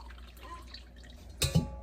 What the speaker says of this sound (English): we're going to drain the water off the apples